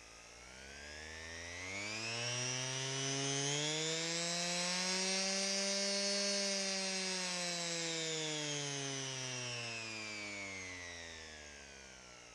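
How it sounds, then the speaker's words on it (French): A Bosch PEX300 AE random orbital sander runs alone for several seconds, its droning whine rising in pitch as it spins up, holding, then slowly winding back down. "elle fait le bruit d'une ponceuse"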